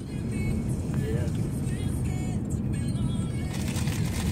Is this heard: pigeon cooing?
no